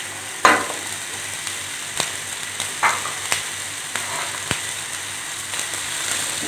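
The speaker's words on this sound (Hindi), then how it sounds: "थोड़ा सा इनको फ्राई करेंगे और इनको निकाल लेंगे हम।" Carrots and peas frying in oil in a pan, a soft, steady sizzle with several sharp stirring clicks and taps against the pan spaced through it, fairly close and with no talking.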